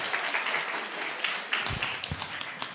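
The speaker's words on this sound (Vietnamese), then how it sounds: "Xin quý phụ huynh cùng tất cả mọi người đây cho các con một tràng pháo tay được không" Audience applause for nine children at the final round of a kids' performance competition: a broad, steady wash of clapping from a hall crowd, with a few louder nearby claps standing out toward the end.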